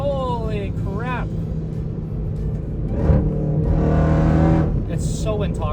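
A supercharged V8 Jeep Trackhawk engine gives a deep, rumbling drone that swells louder partway through, heard beneath a person talking excitedly inside the car.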